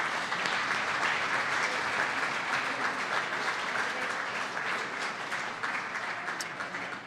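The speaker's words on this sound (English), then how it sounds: "But how about a round of applause for Isaiah McDuffie tonight" A studio audience applauds a Green Bay Packers linebacker appearing as a guest on a live clubhouse show, producing dense, steady, sustained clapping that holds at full strength for about seven seconds with no talk over it.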